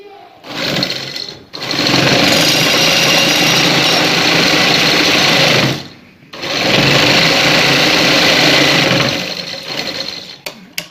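A sewing machine stitches along a folded trouser hem edge, running loud and steady in two long continuous bursts separated by a brief pause, alone without speech.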